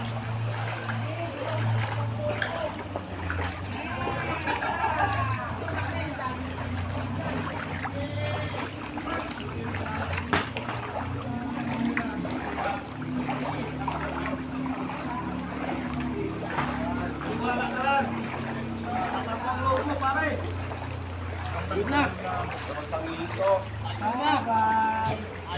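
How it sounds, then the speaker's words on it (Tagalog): Flood water runs as a strong current in a street in Imus, Cavite during heavy July rain, a steady rushing, low churning flow heard close by throughout, with voices talking over it. "Lakas ng agos."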